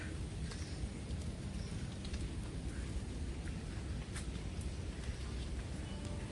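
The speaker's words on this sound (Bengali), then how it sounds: "বৃষ্টি পড়ছে টিপটাপ করে, ওই জন্য গাছের পাতায় জল, ফুলে জল" Light rain falls on flowering garden plants, a soft, even hiss of drops that stays faint and continuous in the background with no voices.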